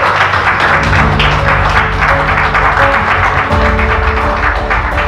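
Applause at a certificate award ceremony, clapping hands mixed with loud background music with sustained tones, steady and close throughout.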